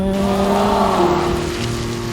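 Steady rain hisses and patters, loud and continuous, over a low droning engine hum from a vehicle struggling on a slippery road.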